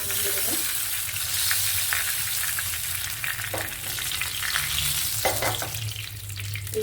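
Torn curry leaves and salt sizzle in hot oil in a pan, a loud, constant frying hiss with occasional spatters and stirring scrapes, close up.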